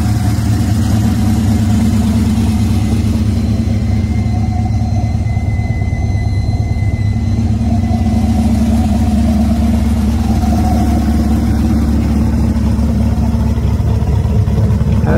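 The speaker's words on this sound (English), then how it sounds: "Listen to this house sound of Camaro with L6 engine." A Chevrolet Camaro with an inline-six engine idles steadily, a low continuous rumble with a faint mid-range drone that holds evenly throughout, close and alone with no talking.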